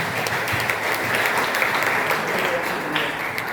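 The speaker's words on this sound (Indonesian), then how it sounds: "Boleh kasih tepuk tangan yang buat saya." An audience at a motivational seminar claps steadily for several seconds, a dense, even applause close by with no talk over it.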